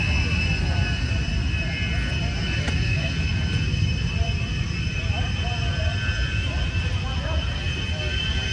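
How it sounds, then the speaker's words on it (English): A Zenith aircraft's engine at the Oshkosh 2023 airshow drones steadily and loudly throughout, an unbroken roar with a faint high whine on top and voices mixed in underneath. "Zenith aircraft."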